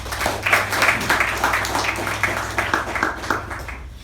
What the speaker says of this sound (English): Please welcome the table topic master of the day, Toastmaster Sharanye, with a huge round of applause.